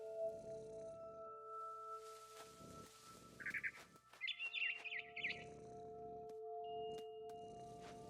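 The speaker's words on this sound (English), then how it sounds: "Then I heard chirping outside my window. It was a barn swallow going back to her nest." A barn swallow in the video game What Remains of Edith Finch gives short bursts of bright chirps, faint against soft ambient game music and low background sound.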